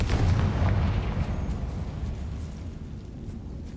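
A heavy booming blast from the Confringo fire spell in Hogwarts Legacy, loud and close at first, then rumbling and fading over a few seconds.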